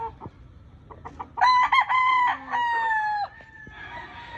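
A pure Golden Boy gamefowl rooster crows nearby, a loud drawn-out cock-a-doodle-doo in the middle of the clip, with a few short clucks and calls before and after.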